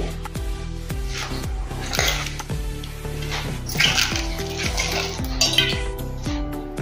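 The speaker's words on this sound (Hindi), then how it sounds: "एक कढ़ाई में पालक को डाल देंगे पहले" Spinach going into a kadhai (wok) for dhaba-style palak paneer, with a rapid series of metallic clanks and ringing knocks of utensil on pan, close and fairly faint, no talking.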